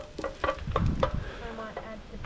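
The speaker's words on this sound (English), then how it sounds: "We have our onions cooking." Onions fry and are stirred in a pan outdoors at a car park in the rain, with soft sizzling and several sharp scraping clicks of the utensil close by.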